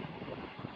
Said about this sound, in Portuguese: Hoje a vez é do vento mesmo.